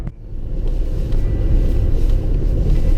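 A Land Rover engine pulls up an off-road track at a Solihull driving course, a deep, steady rumble that builds gradually and holds, close and loud with no voices.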